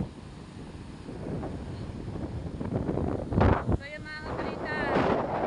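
Strong wind buffets the microphone at the seashore, with a constant roar and gusts that swell louder toward the end, while someone talks over it.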